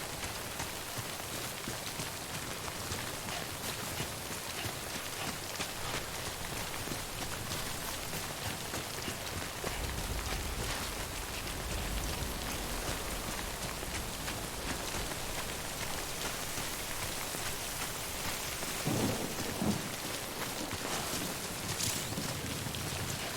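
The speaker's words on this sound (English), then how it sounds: "We'd wait out the rain" Steady rain patters across surfaces in the video game Death Stranding, a dense, even hiss with faint wind and no clear thunder, holding at a constant low level throughout.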